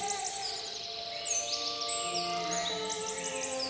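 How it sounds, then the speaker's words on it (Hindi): Birds chirp and tweet steadily in a forest as a storybook sound effect, their quick high calls layered over soft sustained music. "पक्षी खुशी से चहचहा रहे थे"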